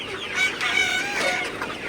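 Sonali super hybrid chickens cluck loudly and steadily at morning watering time on a poultry farm, several birds close by with rising, drawn-out calls overlapping.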